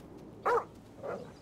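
A dog in the video game GTA V gives two short barks, the first sharper and louder, the second softer, over a quiet background hum.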